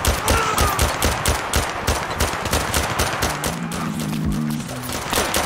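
Rapid automatic gunfire in Zero Caliber VR, a loud, steady stream of closely spaced shots lasting the whole stretch, with a brief tonal hum partway through and no talking.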